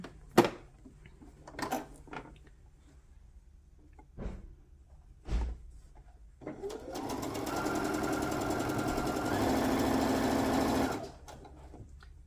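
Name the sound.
sewing machine stitching quarter-inch seam on stocking fabric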